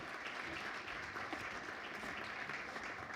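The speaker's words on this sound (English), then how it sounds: "A big applause for all of them" Sustained applause from a conference plenary audience, an even, continuous patter of many hands, moderately distant and unchanging in loudness throughout.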